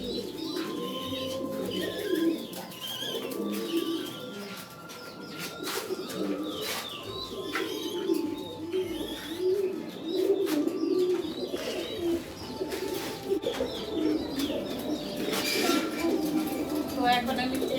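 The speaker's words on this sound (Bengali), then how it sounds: "তো পাশে আছে আরও কবুতরের বাচ্চা, এদেরও আমরা বেচার জন্য আলাদা করে রেখেছি।" Young pigeon chicks kept for sale coo softly and repeatedly, with occasional chirps and a flutter of wings, while a person talks nearby.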